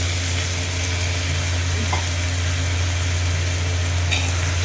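Finely chopped tomatoes sizzle steadily in a spoonful of oil in a pan over lowered gas, a continuous close frying hiss with no talk.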